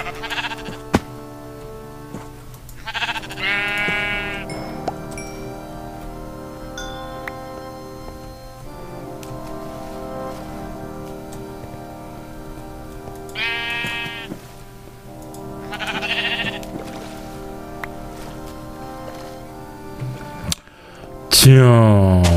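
Minecraft sheep bleat in short wavering calls, a couple of bleats early and more later, over a steady ambient game backdrop with occasional clinks and someone talking quietly.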